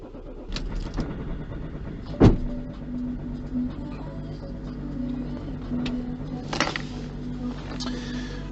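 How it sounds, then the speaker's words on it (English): A car engine cranks and catches with a sharp burst, then settles into a low steady idle, heard close and alone without talk. "Right, so car's started."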